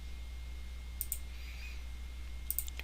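Mouse clicks while routing a PCB in Altium, a few sharp, faint clicks at the one-second mark and again near the end, over a steady low electrical hum.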